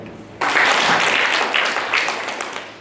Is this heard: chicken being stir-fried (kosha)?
no